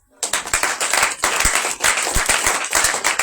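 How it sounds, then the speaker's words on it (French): A church congregation clapping during a Sunday service: fast, dense rhythmic handclaps, loud and close, continuing steadily after a short silent start. "Acclame Jésus."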